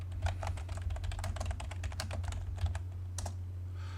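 Rapid keystrokes on a computer keyboard while entering an AutoCAD command, a run of close, crisp taps at an uneven rhythm over a steady low hum, with no talk.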